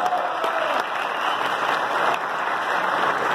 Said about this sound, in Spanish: un aplauso para Dailon Soletti